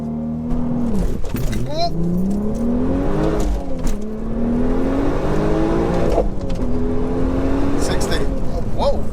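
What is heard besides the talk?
462bhp Golf R32 turbo accelerating during VBOX run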